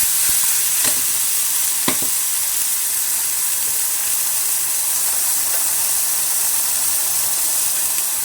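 Green masala paste frying in hot oil with cumin and bay leaf for an egg curry, a steady close sizzle and hiss throughout with a couple of sharp utensil clinks early on.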